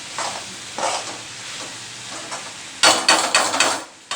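Mixed vegetable curry with salt and chilli powder is stirred in a pan: repeated scraping spoon strokes in uneven bursts over a soft sizzle, busier and louder toward the end.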